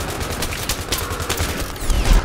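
Rapid automatic gunfire rattles in Battlefield 3 on Xbox One, a loud, close stream of shots in quick succession with a heavier burst toward the end.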